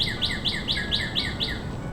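A bird chirps outdoors beside a Toyota FJ Cruiser, with a rapid, regular series of about eight bright, clear notes over a steady background hiss. The bird is moderately near.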